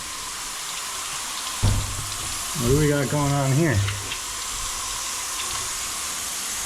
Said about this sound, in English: That sounds like some water is spraying out of something.